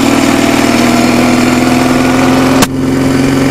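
A Soviet motorcycle engine runs hard and steady on a snowy ride, a loud continuous drone that ends abruptly near the end as the throttle drops.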